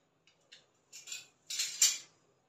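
A spoon works through a dal and rice dosa batter in a bowl, giving a few short, sparse clinks and scrapes that build into two louder stirring bursts near the end, close by with no voices.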